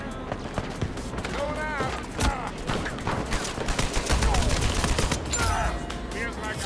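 Rapid gunfire bursts from an Uncharted 4 multiplayer match on PS4, loud, dense and repeated throughout, with game effects layered in and no voices talking over it.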